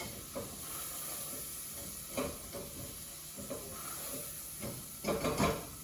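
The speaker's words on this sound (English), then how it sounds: "We're sizzling away nicely" Butter chicken with yogurt sizzles steadily in a hot pan, with occasional louder spatters and faint stirring or utensil sounds; no talking.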